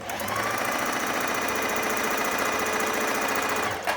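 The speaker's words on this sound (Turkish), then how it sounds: "Makinem şu an açık. Hızlı devirde şu anda." A Bernette b05 sewing machine runs at high speed with a steady, fast mechanical whir and rapid needle chatter, then stops abruptly near the end.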